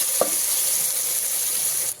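Ginger garlic paste frying in a pressure cooker, a steady bright sizzle holding evenly throughout with one soft clink near the start, then cutting off abruptly at the very end.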